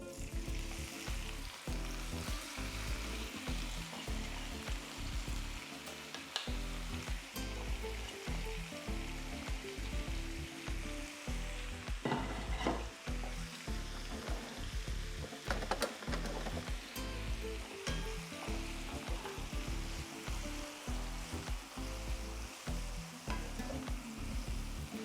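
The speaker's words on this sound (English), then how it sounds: "We're gonna first let the pan get warm. We're gonna begin to add our tomato and onion." Tomato and onion frying in a warm pan for chicken tacos dorados, a steady close sizzle with a regular stirring pulse running throughout and no talk.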